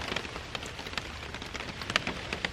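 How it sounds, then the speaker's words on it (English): Light rain keeps falling after a morning thunderstorm at a lakeside campsite, soft steady pattering on a surface with scattered sharper drips, close by and quiet, with no voices. "Thunderstorm rolled through here this morning, still raining a bit"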